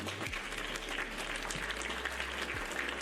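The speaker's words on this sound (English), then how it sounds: "We give you a lovely round of applause for that comment." A burst of audience applause, steady and fairly close, with a low continuous hum running underneath and little speech.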